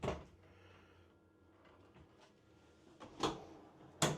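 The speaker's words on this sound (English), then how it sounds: "2 of these pull-out drawers, and look how deep those go" Deep pull-out drawers in a 2024 Riverstone Legacy 39RKFB RV's rear kitchen slide and bump in a quiet space, ending in two sharper knocks near the end.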